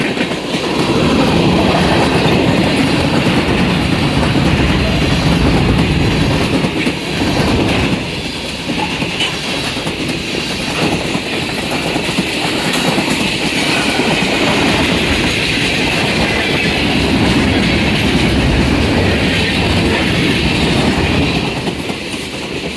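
A long, heavy, fast CN manifest freight train hauled by a lashup of hard-working diesel locomotives passes close by, with a loud continuous roar and rumble and the rhythmic clatter of wheels on rail, and no voices.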